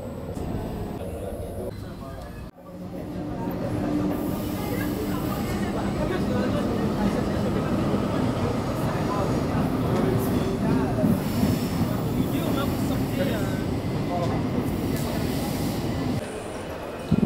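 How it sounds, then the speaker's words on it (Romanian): Train station ambience at Gare du Nord in Paris: a loud, continuous rumble of rail cars with squealing wheels and a dense crowd murmur, after a brief dropout near the start. "Bun, suntem în gara de nord"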